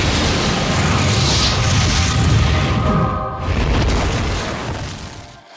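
A weapon fires and a big explosion follows, a loud broad roaring boom that rumbles on for several seconds before fading out, with no talk over it.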